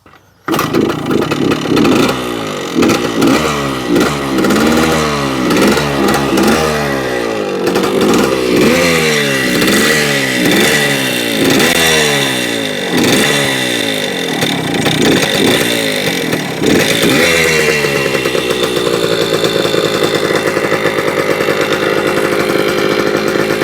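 A Yamaha DT 100 two-stroke motorcycle engine runs loud and close, revving up and down in a quick repeated series of throttle blips before settling into a steadier high idle.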